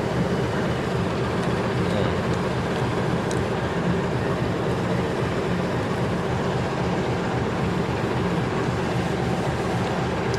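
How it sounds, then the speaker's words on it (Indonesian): A Gunung Jati diesel locomotive idles at a Jakarta station platform, giving off a loud, steady rumbling drone that holds unchanged throughout, with no talk. "ada lokomotifnya Gunung Jati, jadi mungkin agak berisik suara mesinnya"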